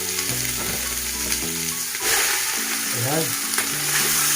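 Salmon heads and bones hit a pan of already-cooked onions, giving a steady loud sizzle and frying hiss with stirring, while a single short word is spoken near the start.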